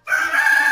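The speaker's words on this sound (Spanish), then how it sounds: "¿Y cómo hace el gallo?" Rooster crowing at a farm, a single short, loud, close call that starts abruptly and holds a bright sustained tone, with no talk.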